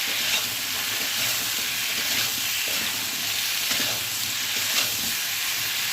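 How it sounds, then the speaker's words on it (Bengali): Potato and eggplant pieces fry in a pan, making a continuous hissing sizzle at even strength throughout, heard close with faint stirring and no voices. "আলু বেগুনটা ভাজা ভাজা হতে হতে"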